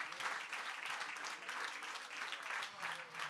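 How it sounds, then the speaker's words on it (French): Steady crowd applause at a political rally of French Ecologists, dense clapping from many hands filling the space at even loudness throughout, with no talking over it. "Merci beaucoup Sabine, vous pouvez l'applaudir très fort."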